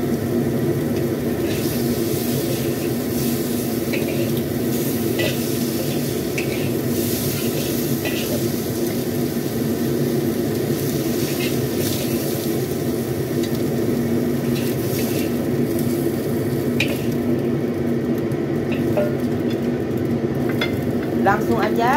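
Shrimp fry in oil in a pan, giving a steady, dense sizzle that stays loud and close without a break for the whole stretch.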